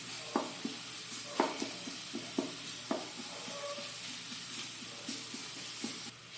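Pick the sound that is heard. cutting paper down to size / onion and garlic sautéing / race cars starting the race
onion and garlic sautéing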